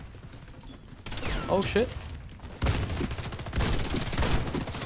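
Rapid gunfire crackles in a Warface online shooter match, with bursts of shots and a sharp pistol report over a mid-level mix of game sounds, while a player speaks briefly.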